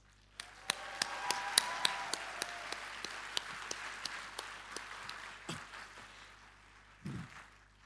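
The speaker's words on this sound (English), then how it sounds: "So please everyone, give our parents a round of applause." An audience at a convocation ceremony applauds the graduates' parents, a soft spread of clapping with sharp, regular claps standing out near the microphone, fading away before a couple of louder thumps at the end.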